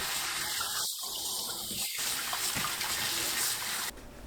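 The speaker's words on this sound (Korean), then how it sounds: "찬물로 헹궈서 체에 받쳐둡니다" Cold tap water runs steadily over blanched lotus root in a sieve, a continuous close trickling splash that cuts off near the end, with no talk.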